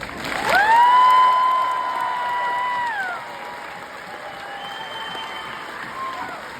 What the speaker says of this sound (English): give a round of applause for your family